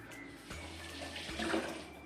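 Tap water runs into a sink while chicken parts are washed, a steady faint splashing stream with a small swell of splashes near the end.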